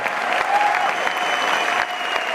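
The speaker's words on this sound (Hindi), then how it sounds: "तालियां अपने लिए बजाओ, अपनी डायमंडशिप के लिए" Dense, steady applause from a large audience at a Diamond-rank achievers' celebration, loud and sustained throughout with no gaps.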